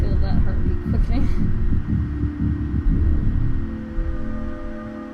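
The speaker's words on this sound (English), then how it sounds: "I feel that heartbeat quickening" A deep, throbbing heartbeat quickens in What Remains of Edith Finch, its low repeated thumps steady and close under a humming drone.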